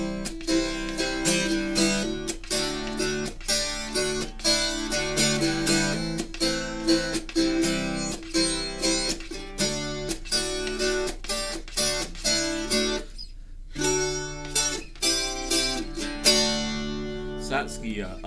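A Godin Inuk 11-string guitar in standard tuning is played unplugged, with chiming, ringing plucked notes and strummed chords at moderate volume, including a brief pause partway through.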